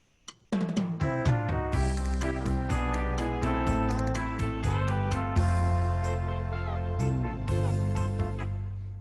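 Arranger keyboard playing its Kinda Hush Pop rhythm style unedited, a full backing of drums, bass and chords in a steady pop groove, loud and continuous after a brief quiet start.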